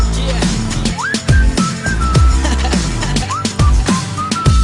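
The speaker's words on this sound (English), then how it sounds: "I just whistled at her" A person whistles in short rising, sliding wolf-whistle phrases, repeated several times, loud and close over a punchy rhythmic beat.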